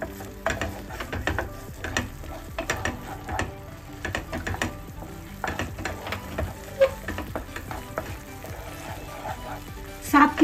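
Soya chaap masala cooks on a very low flame in a pan, with a steady soft sizzle broken by repeated scraping and clicking stirs of a spoon, under quiet background noise.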